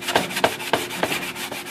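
Hand sanding of wood with brown 80 grit sandpaper wrapped around a sanding block, five or six rhythmic scraping strokes at a steady pace, close and clear with no talk.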